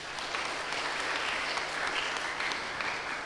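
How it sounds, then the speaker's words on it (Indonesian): A congregation at a GKPB church anniversary Sunday service claps together, producing an even, continuous wash of applause at moderate volume with no voices over it. "Kita berikan tepuk tangan dulu."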